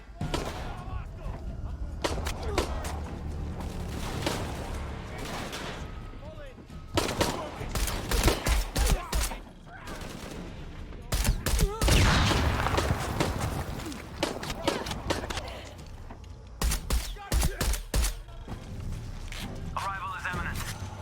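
Bursts of gunfire from Shadow of the Tomb Raider, with loud fusillades and machine-gun-like volleys that come in irregular clusters, mixed with in-game voices and running.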